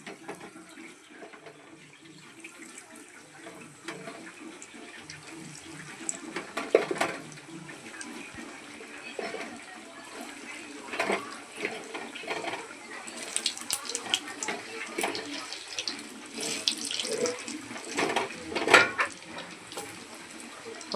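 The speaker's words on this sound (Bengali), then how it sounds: "এটা গরম হয়ে গেছে, এবার তেলে সব একে একে ছেড়ে দেবো।" Bread-coated chicken cutlets sizzling in hot oil, a continuous hissing crackle that grows busier and louder as more pieces go in, with occasional bursts of spattering.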